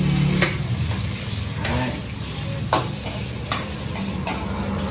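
Pork fat sautéing in a pan for laing, with a continuous close sizzle broken by a few sharp spatula clacks, and a voice talking briefly over it.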